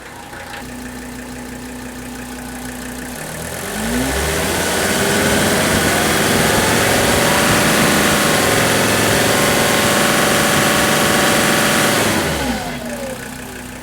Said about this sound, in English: I start the engine